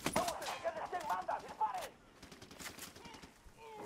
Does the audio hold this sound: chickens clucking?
no